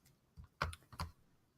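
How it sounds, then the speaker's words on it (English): A few keys pressed on a calculator, three or four quick soft taps in an uneven burst, close and quiet with no voices. "And then typing those into the calculator"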